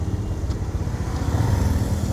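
A motorcycle being parked on a college road gives a low, steady engine rumble at modest volume, running alone without any talk.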